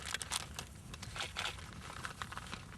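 Close crinkling and rustling of a plastic bag being handled and torn open, in irregular bursts with no voices.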